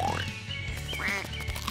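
A goose honking close by, with nasal, quacking calls in short bursts over a dense, noisy background.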